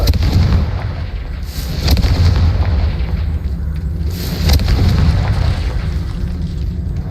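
A Confringo fire spell detonates in Hogwarts Legacy with repeated heavy booming blasts, loud and close, layered over a continuous rumbling game soundscape with no speech.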